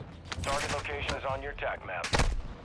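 Gunfire in the Call of Duty Modern Warfare II DMZ mode: several sharp, loud shot bursts crack out, one early, one in the middle and a heavier cluster near the end, mixed with game sounds and a voice talking.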